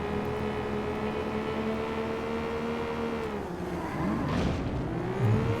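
A Porsche 911 being driven hard in the PlayStation racing game Need for Speed: Porsche Unleashed, its engine droning steadily and then swelling as it revs and shifts, close and continuous.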